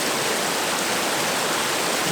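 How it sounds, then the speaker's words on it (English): A raging river at a trout fishing spot below cliffs fills the scene with a loud, steady, unbroken rush of churning water and no other sound. "There's that water raging."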